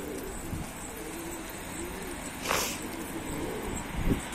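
Soft pigeon coos sound nearby at a coop against a quiet outdoor background, with a brief rustle of movement in the middle.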